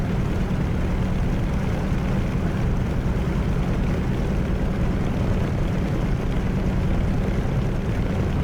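A warbird aircraft's piston engine runs up to 1700 RPM on the ground, a dense, steady droning roar that holds constant and loud throughout with no voices.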